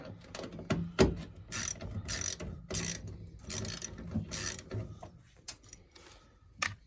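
A ratchet undoes a screw on a Zanussi TD200 tumble dryer, with repeated close clicking bursts in an uneven rhythm.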